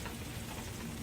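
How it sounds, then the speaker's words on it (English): Beef browning in a pan while being scraped, a quiet, even sizzle that fills a brief second. "what you want to do is brown this, scraping the bottom of the pan"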